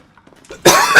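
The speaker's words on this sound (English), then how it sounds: "I'm sorry, I had to clear my throat." A single short, rough throat clearing up close, a burst of raspy noise lasting about half a second after near silence, during play of the video game Resident Evil 7.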